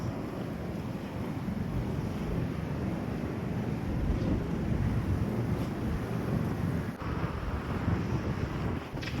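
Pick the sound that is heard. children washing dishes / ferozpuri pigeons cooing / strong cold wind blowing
strong cold wind blowing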